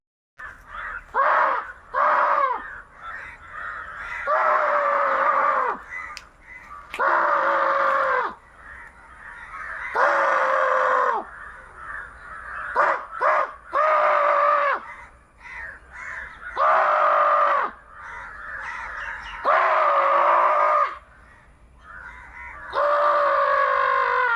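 A flock of crows caws loudly and harshly in repeated drawn-out bursts with short pauses between them, close by and dominating the scene.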